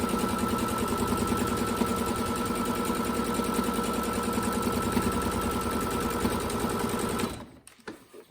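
A sewing machine stitches a fabric face mask in a fast, continuous, close mechanical rattle. The rattle runs steadily before stopping abruptly near the end.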